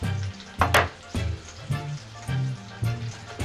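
Chopped tomatoes sizzle and spit in hot olive oil inside a pot, with bursts of frying noise and occasional clinks of a utensil.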